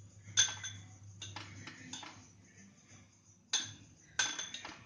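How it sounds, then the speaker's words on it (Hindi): A spoon presses biscuit crumbs into dessert glasses, clinking and tapping against the glass in several bright, close strikes separated by soft scraping, with no talk. "अब इसको चम्मच से थोड़ा सा इस तरह से सेट कर दें"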